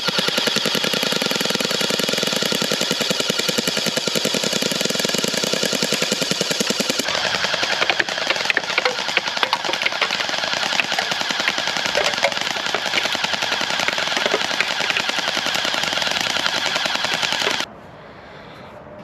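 Two Unlocx gel blasters fire gel bullets at the same time in a long, dense, rapid rattling stream, loud and close, with the tone shifting partway through before stopping abruptly.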